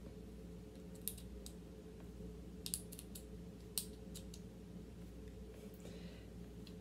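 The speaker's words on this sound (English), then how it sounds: "You have regular knitting needles, they still make that clacky sound." Metal knitting needles clack together in a few sharp, sparse clicks over a steady low hum, faint and close, with no talk.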